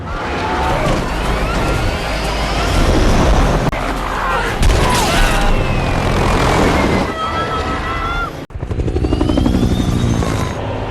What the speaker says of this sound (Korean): 결국 헬기는 핵폭풍에 휩쓸려 추락해버리고